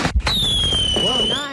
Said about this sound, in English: you know what type of firework that was on sound alone?